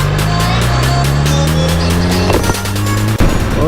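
A BMW S1000RR sport motorcycle engine is heard up close and very loud, its pitch climbing steadily as it revs, followed by a sharp drop near the end.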